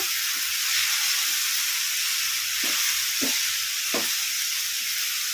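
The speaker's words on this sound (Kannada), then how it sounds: "ಇದನ್ನು ಮೀಡಿಯಮ್ ಫ್ಲೇಮಲ್ಲೇ ಫ್ರೈ ಮಾಡ್ಕೊಂಬಿಡೋಣ ಮೆತ್ತಗೆ." Pundi leaves frying in a pan over a medium flame, a steady close hiss and sizzle with a few soft stirring scrapes, no voices.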